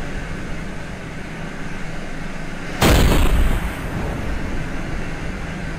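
A submarine's deck gun fires once midway in a video game, a loud booming crack over a constant rumbling engine drone, its blast briefly swelling before fading back.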